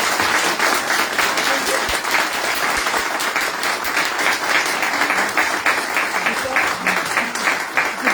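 Sustained audience applause at a live event, dense steady clapping that fills the whole stretch at close range, with a faint hint of voices underneath.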